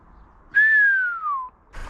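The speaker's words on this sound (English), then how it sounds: "There's a guy whistling and shouting." A man whistles outdoors near a large 55-ton crane, one clear, loud whistle that slides slowly downward for about a second, followed by a brief burst of another sound.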